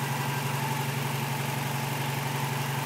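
A rebuilt Toyota 22RE engine idles steadily just after start-up, with new injectors, a rebuilt starter and alternator; a smooth, even hum with a low rumble, close and continuous with no voices.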